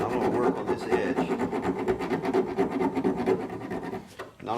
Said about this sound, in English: here's how it looks now that I've filed the edges down